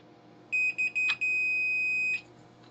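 Multimeter continuity beeps while probing a fuse on a circuit board, a few short electronic beeps followed by one sustained tone lasting about a second, clear and close in a quiet room.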